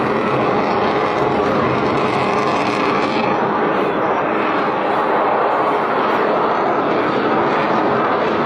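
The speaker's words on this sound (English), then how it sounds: "Watch as the F-16 Fighting Falcon ignites its afterburner and shoots straight into the sky" An F-16 Fighting Falcon fighter jet with its afterburner lit climbs steeply, a loud, continuous roaring jet blast that holds steady throughout without pause.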